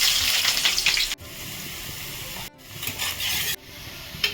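Chopped onion sizzles in hot oil in a pan with panch phoron spices, giving a loud, steady frying hiss close by. The sound is broken by a few abrupt cuts.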